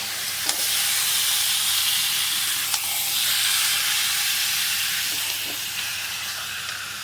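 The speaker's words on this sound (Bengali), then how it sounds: "এবার ভালো করে কষে নেব" Mutton pieces sizzle and sauté in hot oil in a pan for a red goat-meat curry, a steady bright hiss running throughout with a few sharp crackles, close and alone with no voices.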